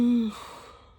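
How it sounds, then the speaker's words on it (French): One tired yawn from a woman: a short voiced tone that fades into a long, breathy exhale, close and alone. "Désolée, j'ai bailli."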